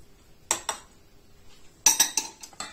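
Ingredients for a marble cake being mixed in a bowl, heard as a few sharp clinks and scrapes of a utensil against the bowl in two short bursts separated by a quiet pause.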